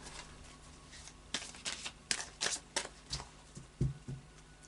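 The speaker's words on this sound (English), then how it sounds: "I'll just do a final shuffle now of the Anarchy Tarot." Anarchy Tarot cards being shuffled by hand, giving a series of soft riffling, flapping bursts at an irregular rhythm, close and fairly quiet, with no talking.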